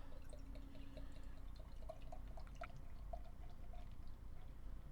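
Jack's Abby Taza Chocolate Framinghammer beer is poured into a glass, producing faint gurgling and soft drips over a low steady background hiss, quiet and close.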